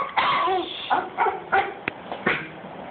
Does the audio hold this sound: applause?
no